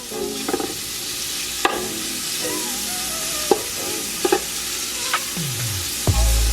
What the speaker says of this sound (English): So we're going to put the bacon and get the bacon started.